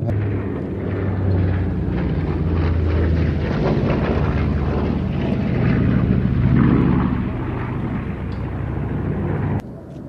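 A B-25 and a DC-6 piston-engine aircraft with Pratt & Whitney radial engines make a loud, sustained propeller roar at an air festival, steady for about ten seconds and swelling slightly before cutting off near the end, with no speech.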